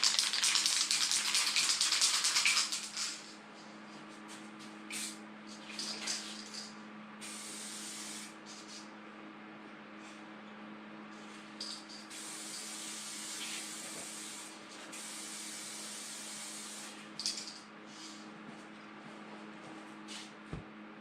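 Hissing bursts of a spray gun laying clear coat on a repaired plastic bumper, a long spray at first then several shorter passes, close and loud over a low hum.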